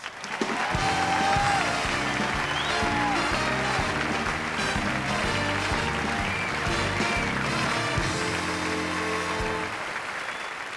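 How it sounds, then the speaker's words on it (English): Audience applause at the 1997 American Comedy Awards, a warm, steady roar of clapping mixed with a band playing, sustained throughout and easing off slightly at the end. "Please, let's give him a warm round of applause."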